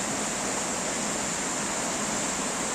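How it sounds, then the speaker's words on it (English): Water rushes over river rapids or a weir in a continuous, even, broadband roar, steady and fairly close, with no voices. "It's called the rapids."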